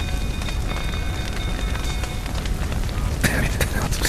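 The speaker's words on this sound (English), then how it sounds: "Looks like rain." Rain falls in The Witcher 3: Wild Hunt during a burning stable scene, a dense hissing wash of drops mixed with crackling fire and rumble, loud and close, with a louder burst near the end.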